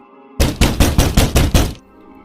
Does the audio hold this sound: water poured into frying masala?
no